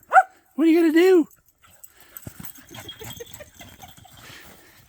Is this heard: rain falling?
no